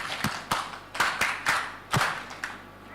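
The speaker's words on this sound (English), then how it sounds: "We are going to clap and shower him with flowers." A few people clap at a disability-inclusive higher education conference: sharp, spaced claps that come in a loose, uneven rhythm, close and fairly loud, with no talking over them.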